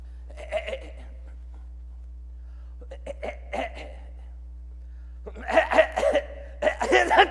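Coughing on stage during a Christmas Carol play, several hacking coughs in three separate bursts, the last one longest and loudest, with quiet pauses between them.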